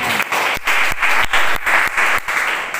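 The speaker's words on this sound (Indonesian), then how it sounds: "Beri tepuk tangan kepada Tuhan." A church congregation applauds together during a sermon, a dense, steady wash of many hands that swells in regular pulses, as if clapping in time, filling the room for a few seconds.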